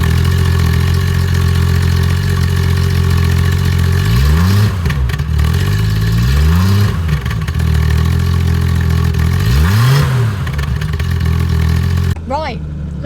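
A 1970s Triumph GT6 sports car engine heard from outside, idling with a steady low rumble broken by three rising and falling revs, loud and close, ending with a brief shift in tone.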